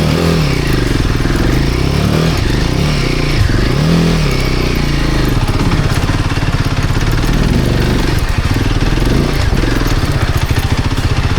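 An off-road motorcycle engine drones loud and close as it revs and strains while stuck among rocks, a steady throbbing roar with rising and falling pitch throughout.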